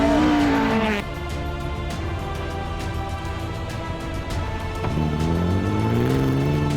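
A Capri rally car drives hard through the final stage of a rally at Ermelo. The engine note is loud, steady and close, with a sharp pitch drop near the start and another rise in revs toward the end.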